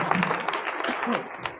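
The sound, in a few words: audience applause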